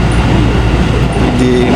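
A local train in Japan heading toward Gifu rumbles along with a steady, loud low-frequency drone and faint high tonal whines from the wheels and motors, heard from inside the carriage with no speech.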